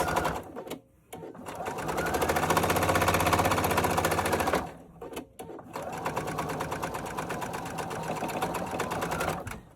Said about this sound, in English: Don't forget, back stitch your stitches.